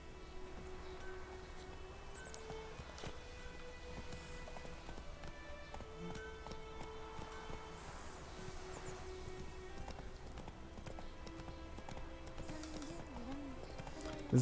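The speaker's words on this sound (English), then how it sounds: "Horsey." A horse's hooves clip-clop in a steady galloping rhythm in The Witcher 3, loud and continuous, over a bed of game music with tonal notes.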